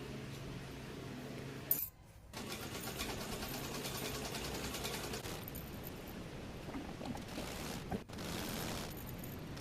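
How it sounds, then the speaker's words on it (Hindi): A sewing machine stitches along a folded fabric edge, its fast steady mechanical whir running close and loud, broken by two brief pauses where the needle stops and restarts. "इसमें हम लोगों को किनारे किनारे सिलाई लगा लेनी है।"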